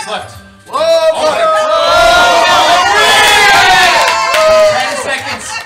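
A game show studio audience roars and cheers for contestants, a loud sustained crowd surge that swells quickly and holds for several seconds with shouting voices.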